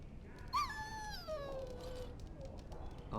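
A dog in Dragon Age: Origins lets out a rising yip that slides into a long, falling whimpering whine, close and clear over low background hum.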